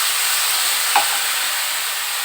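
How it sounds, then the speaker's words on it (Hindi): Water poured into a pan of sautéed vegetables and peas sets off a loud, steady sizzle and hiss, with one short clink partway through and no voices. "मेरी सब्ज़ी जो है भून चुकी है तो इसमें हम डाल देते हैं पानी।"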